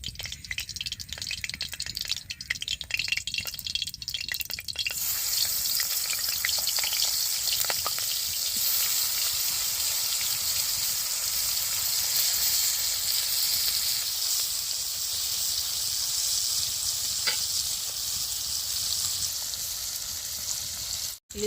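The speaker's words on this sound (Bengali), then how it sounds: "আমি দেখো সরষা তেলেই ইলিশ মাছের লেজগুলো ভাজবো" Hilsa fish tails fry in mustard oil in a hot wok, giving a continuous loud sizzling hiss that swells after the first few seconds and holds steady with faint crackles throughout.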